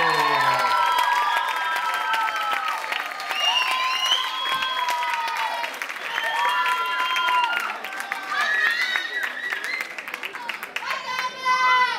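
A crowd at a winter festival street dance area applauds and cheers for a dance group, with dense clapping, whoops and shouts that keep going without a break while music plays along underneath.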